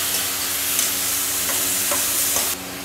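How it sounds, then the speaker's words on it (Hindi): Onion and spice paste frying in hot oil for khurhur (imli flower) sabzi, giving a steady close sizzle with a few soft stirring scrapes, alone with no talk. "ये पेस्ट को डाल दिए हैं, अभी पेस्ट को भूनेंगे थोड़ी देर तक।"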